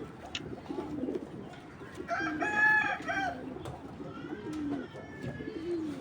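Racing pigeons coo in soft, throaty bursts close by, with a louder warbling call in the middle, over a low steady background murmur.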